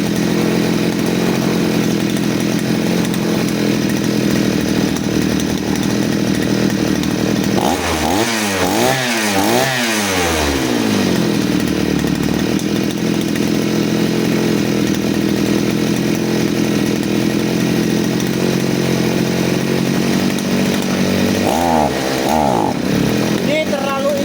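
A petrol side-mounted brush cutter (grass trimmer) engine runs loudly and steadily throughout, close up, with revs rising and falling around the middle and again near the end; a voice briefly speaks over the engine.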